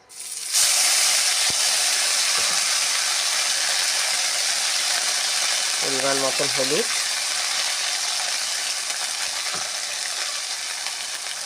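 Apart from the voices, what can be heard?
spices frying with mung dal in oil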